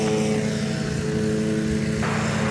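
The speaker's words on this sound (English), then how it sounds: "we've got American Flight 1034 coming in from Guadalajara" Aircraft at DFW Airport, with a loud steady engine drone and tonal whine filling the clip and a brighter surge of engine noise near the end.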